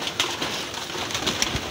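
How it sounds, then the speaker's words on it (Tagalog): Racing pigeons coo and bustle while being fed, soft cooing calls and wing flutters scattered close by over a busy rustling background. "Nagkakagulo yung ibon natin."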